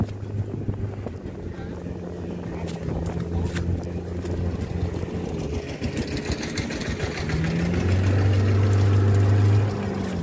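Two-wheel walking tractor engine running steadily in a soft, muddy rice field during early flooding, a low continuous drone with wind noise that grows louder and closer toward the end.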